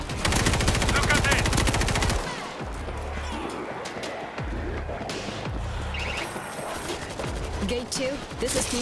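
Auto turret in the World War Z video game firing rapid automatic bursts, loud and dense at first, then continuing gunfire and battle noise underneath voices talking.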